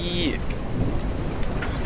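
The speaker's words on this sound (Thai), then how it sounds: "เอาละฝนตกพอดี" Rain falling on a farm in Ranch Simulator, a dense steady hiss with faint higher tones drifting over it, loud and continuous through the moment.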